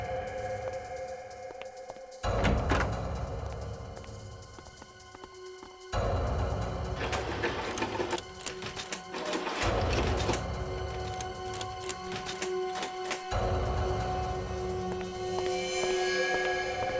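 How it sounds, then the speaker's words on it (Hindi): A stuck door in a building is rattled and forced in a TV crime-drama scene, with repeated loud clattering, clanking mechanical bursts separated by brief pauses and a steady hum underneath. No one speaks. "ये दरवाजा खुल नहीं रहा है"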